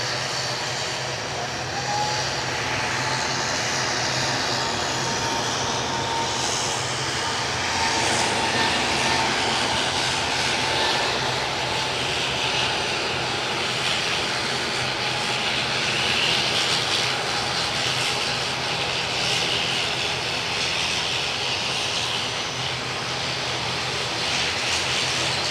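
An EasyJet jet airliner bound for Amsterdam runs its engines at Edinburgh Airport, a steady, loud, broad roar that holds unbroken throughout.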